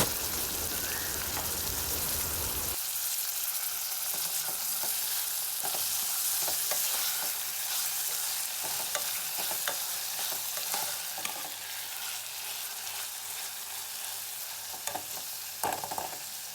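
Medium tomato frying in a pan for paneer peas pulao, a dense steady sizzle with intermittent scraping and stirring of a spoon, loud and close throughout.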